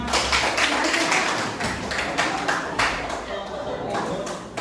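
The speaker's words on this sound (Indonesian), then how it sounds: "Silakan berdiri kelompok 1 imut. Berikan tepuk tangan." An audience claps for the winning group at a classroom award announcement, a dense patter of hand claps at moderate loudness, with voices talking over it.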